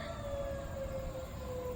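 A tornado warning siren sounds at a distance in Springfield, Missouri, during a monthly test. It is a faint, steady, slowly falling tone over low background rumble.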